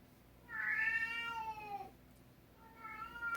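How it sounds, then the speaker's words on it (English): A male house cat meows loudly indoors, one long drawn-out meow followed by a shorter second call, fairly close and clear with no talking. "He's the one who was doing all that meowing."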